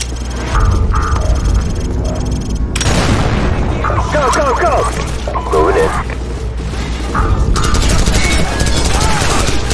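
Explosive breach charge detonating in Call of Duty 4, a sharp loud boom followed by sustained gunfire and combat clatter, with voices heard amid the noise.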